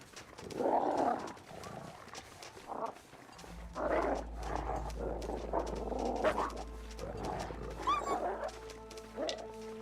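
Wolves in The Long Dark video game, with a repeated pattern of animal barking and growling calls over low ambient wind.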